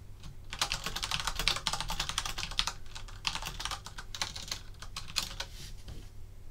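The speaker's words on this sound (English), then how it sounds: "Let me just type that message as well." Rapid, close keystrokes clatter on a computer keyboard during a livestream as a chat message is typed, coming in dense bursts with brief pauses and no talk.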